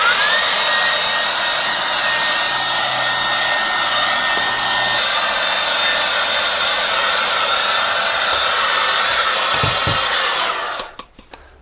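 An LK08 compressed air duster used as a vacuum on dust and dirt in a clubhouse whines at a loud, steady high pitch close by, then cuts off and spins down at the end.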